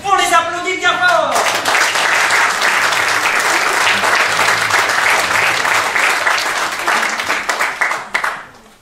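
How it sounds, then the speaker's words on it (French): An audience gives a couple a loud, sustained burst of applause, dense clapping that fills the room for several seconds and then thins into scattered claps before stopping, with a voice briefly heard at the start. "On les applaudit bien fort."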